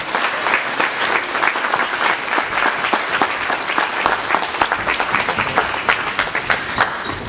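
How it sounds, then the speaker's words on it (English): A crowd at a motivational talk in Emporia claps loudly and continuously, individual hand claps standing out sharply within the steady wash of applause throughout. "Give them all a round of applause."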